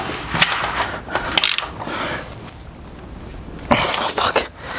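A small bolt being worked out during an Impaktech race rail install, with ratcheting mechanical clicks and metallic turning sounds in close, busy bursts, under a low voice.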